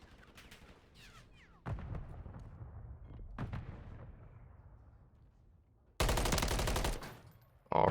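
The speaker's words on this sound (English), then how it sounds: "Already French gonna be firing off some shots there" Gunshots fired by a player during a competitive search-and-destroy match in a shooter game: a few sharp, distant-sounding reports at first, then a loud rapid automatic burst lasting about a second, and another starting at the very end.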